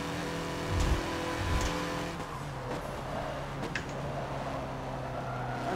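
Race car engine in the Forza Motorsport video game, revving hard and bouncing off the rev limiter in a steady loud drone, with brief low bursts and a faint tire squeal.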